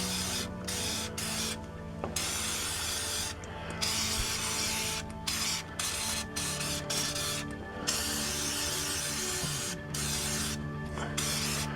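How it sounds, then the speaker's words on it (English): Fluid Film rust-proofing spray applied to a rusty suspension mount during an upper ball-joint job on a 2007 Chevrolet Silverado/Avalanche, heard as repeated close, hissing spray bursts separated by short pauses. "we'll just cover it in fluid film before we put everything back together"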